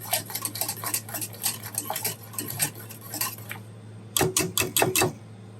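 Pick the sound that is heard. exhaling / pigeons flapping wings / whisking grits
whisking grits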